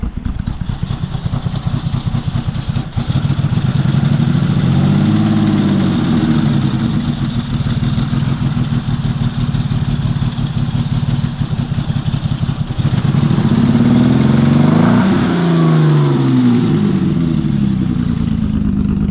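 A demolition derby car engine runs loud and close. It chugs roughly and unevenly from a misfire, then revs up near the end before dropping back to a rough idle.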